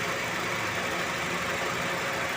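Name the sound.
Honda Jazz engine idling after idle RPM adjustment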